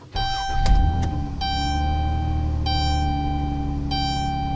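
A Honda Clarity plug-in hybrid is switched on with the key, giving a short thump and click and then a series of clear electronic chimes and tones over a low steady hum, with no engine cranking.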